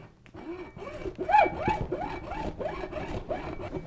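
A hacksaw cuts a small piece off a rod holder for an ice fishing hook setter, giving steady back-and-forth rasping strokes, close up and moderately loud, with no talk.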